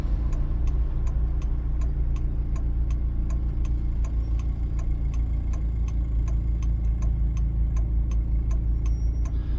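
A car's left turn signal ticks in a fast, even rhythm, heard clearly through about ten seconds while the vehicle idles at a traffic light, with a steady low engine rumble underneath.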